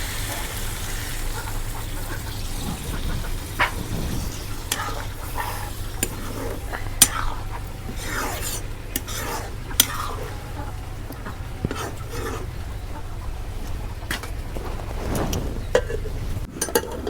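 Broiler chicken meat stir-fried in a pot for a curry, with repeated scraping and clinking of a utensil against the metal over a steady low cooking hiss, close and fairly loud, no talking.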